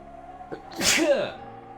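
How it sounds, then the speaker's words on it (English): A single loud, close sneeze with a brief sharp intake before it, over a steady low hum. "that sneeze was like building for like 5 minutes"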